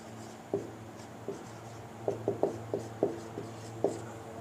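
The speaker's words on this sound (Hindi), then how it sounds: "मैं सबके नाम लिख देता हूँ।" Committee names being written on a board, a series of short tapping, scratching strokes with uneven spacing in a quiet classroom.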